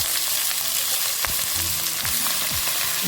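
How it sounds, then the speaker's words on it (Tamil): Onion sautés in a pan as manathakkali greens go in, a loud continuous sizzle with occasional stirring knocks and scrapes throughout. "இப்படி வெங்காயம் வதங்கிட்டு கீரை போட்டுக்கலாம்"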